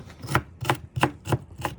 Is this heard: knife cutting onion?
yes